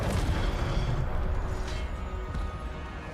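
Fire spell cast in the Hogwarts Legacy game, a dense rumbling whoosh of flame with booming low bursts that stays loud throughout and fades slightly toward the end, with no voices over it.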